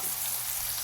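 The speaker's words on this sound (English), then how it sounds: "just saute your onions for a couple of minutes" Onions sauté in a pan with a soft, continuous sizzle and crackle, faint and steady for under a second with no voices.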